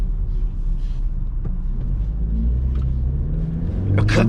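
A Vauxhall Corsa's engine rumbles steadily in traffic after a shift into second gear, then revs up louder toward the end, heard from inside the car with no talking.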